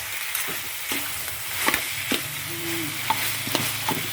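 A spatula scrapes and knocks around a large pot in irregular strokes over a continuous sizzle of chicken frying close by.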